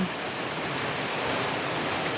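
Steady typhoon rain in Oriental Mindoro pours down, a dense even hiss of drops hitting surfaces with no pauses and no voices.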